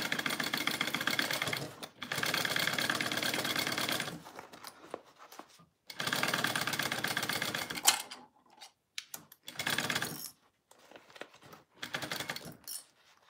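A sewing machine stitches a crossbody bag in several runs of fast, close mechanical clatter of varying length, separated by short pauses with soft handling noises and clicks.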